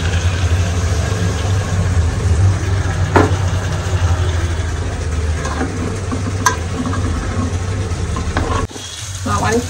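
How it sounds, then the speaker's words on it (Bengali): Eggplant frying in oil makes a continuous sizzle and crackle that holds fairly loud throughout, with a couple of sharp utensil knocks, a low background hum and a brief drop near the end. "আমার এখানে বেগুন ভাজা হয়ে গেছে"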